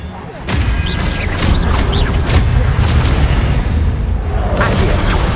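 Expelliarmus spell cast in the Hogwarts Legacy video game: a sudden loud magical blast with a booming, crackling rush and whooshing streaks that keeps roaring for several seconds, with faint voice-like bits in the mix.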